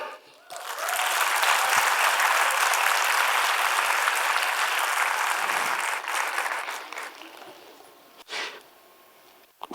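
Dense applause from a lecture audience, loud and sustained for about seven seconds before thinning out, with a short final burst of clapping near the end.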